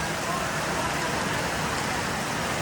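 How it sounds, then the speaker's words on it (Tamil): Heavy rain pours down steadily on the road during a family picnic outing, a dense continuous wash of noise with no clear breaks. "வழியில் மழையை பாருங்க அடித்து ஊற்றுது."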